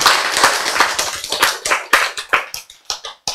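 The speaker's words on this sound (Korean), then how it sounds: "박수" A lecture audience at a health talk claps in a loose burst of sharp hand claps, close and loud, thinning toward the end into separate, slower claps.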